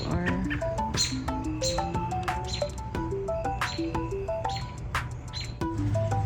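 A newly hatched baby robin chirps repeatedly in quick, high, close peeps, with a few scattered background sounds.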